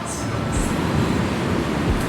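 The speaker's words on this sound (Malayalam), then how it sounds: "ഇത് കൽക്കരി കൊണ്ടുപോകുന്ന ട്രെയിനാണ് കേട്ടോ." A freight train hauling coal rolls past a station with a steady low rumble and rattle of wagons, continuous and fairly close, with faint higher squeals or brake hiss briefly rising above it.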